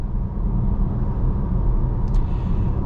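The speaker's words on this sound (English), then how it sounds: "it's pretty quiet, just a little bit of road noise up at just about 50 miles an hour" Steady low road and tire rumble heard from inside a 2024 Volvo S60 cruising at about 50 mph, a constant muted roar with no talking.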